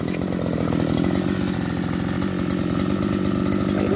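A Robin NB04 40mm small two-stroke engine runs steadily at high speed, a loud, continuous, buzzing rasp close up with no talking over it.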